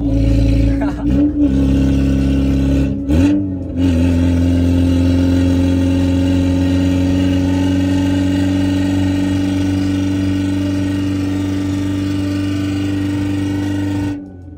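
A 1999 Honda Civic SiR VTEC engine runs loud and steady, droning with a strong harmonic hum for the whole stretch, with brief revving bumps early on.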